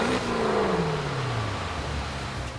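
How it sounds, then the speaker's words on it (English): A Maserati Quattroporte, freshly built, turns over and fires for the first time, its engine swelling into a steady, loud running roar with a falling tone as it settles, no voices. "Does the car start?"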